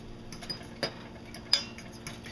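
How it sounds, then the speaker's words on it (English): A metal fork clinks against a cooking pan while breakfast cooks, a few light, sharp taps spaced apart over low kitchen background. "I get yelled at a lot for using a fork in my pans"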